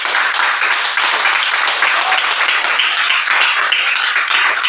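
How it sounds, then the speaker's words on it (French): Congregation applauding during a church service, a dense, steady wash of many hands clapping at once, sustained and fairly loud for the whole stretch with no talk. "Est-ce que quelqu'un peut donner une offrande d'acclamation à Jésus"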